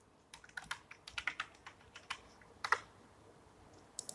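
Close typing on a computer keyboard while writing a print statement in Python code, with a quick burst of clear keystrokes, a pause, a final sharp keypress and a couple of clicks at the end.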